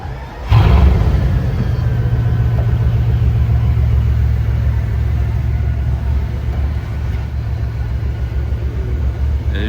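A Bugatti Veyron starts up on a Monaco street and pulls away, a loud, close engine rumble that surges in and holds steady, with no speech.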